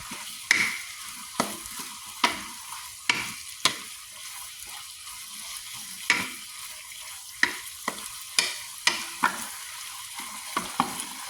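Pork neck pieces stir-fried with holy basil for pad kaprao, a soft sizzle punctuated by repeated sharp spatula scrapes and clanks against the pan at an irregular, brisk rhythm.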